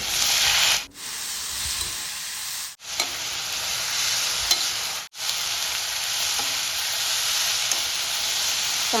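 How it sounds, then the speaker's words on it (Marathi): Onions, tomatoes and dried red chillies sauté in hot oil with a loud, steady sizzle and hiss, broken by three short pauses as the pan is stirred. "चार कांदे आणि चार टोमॅटो आणि लाल वाळलेल्या मिरच्या ह्या सर्व आपण तेलामध्ये मस्त परतून घ्यायचे"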